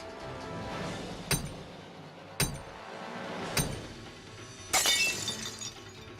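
Safety glass shattering in The Hardy Boys video game: four separate loud impacts, each a sharp crack followed by brief tinkling debris, with the last break the brightest and longest, set over a steady low background hum.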